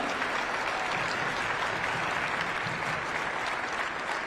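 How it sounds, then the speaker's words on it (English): A round of applause for staff teams at a public hearing with a senator, broad steady clapping from a crowd heard at moderate distance throughout. "if we could give them a round of applause"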